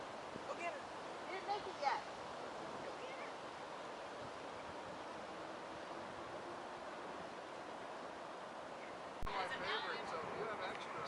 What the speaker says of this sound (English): Listen to the power of that water.